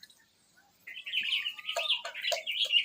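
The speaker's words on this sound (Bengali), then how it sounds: "বাচ্চা পায়রা।" Young pigeons squeak and chirp in close, rapid high calls that start after a near-silent opening and continue busily to the end. They are out in the sun in a pigeon loft, some bathing.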